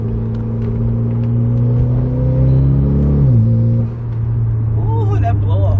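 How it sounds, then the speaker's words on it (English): Mitsubishi Evo X engine droning steadily at close range, with revs sweeping down and a brief turbo blow-off release around the shift before the engine settles back. "Ooh, that blow off sounds."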